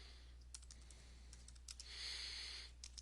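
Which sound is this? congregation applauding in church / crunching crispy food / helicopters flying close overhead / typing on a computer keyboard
typing on a computer keyboard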